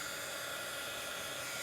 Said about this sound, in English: mine's a heat gun, not a hair dryer.